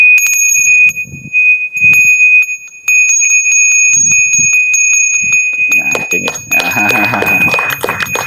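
A Balinese Hindu ritual hand bell (genta) rings steadily with a bright, sustained metallic tone and rapid repeated strikes, with brief low voices in pauses and busier clattering noise near the end.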